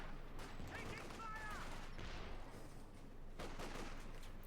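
Assault rifle fire from infantry Sturmgewehrs in Company of Heroes 2, during an OKW versus Soviet match: rattling bursts of gunfire amid steady battle noise, with in-game voices calling out over the fight.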